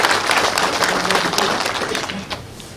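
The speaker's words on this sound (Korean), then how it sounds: "큰 박수로 환영해 주시기 바랍니다" Audience in a hall at a Buyeo County community concert welcomes the press corps with a steady wash of clapping that holds evenly and eases off slightly toward the end.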